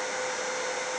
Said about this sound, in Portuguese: Vou adiantar o processo aqui com o soprador, para não ter que esperar, né, a tinta secar naturalmente.